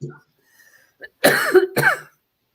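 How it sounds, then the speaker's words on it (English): Two sharp, harsh coughs in quick succession, close and loud, preceded by faint breathy sounds. "I was coughing"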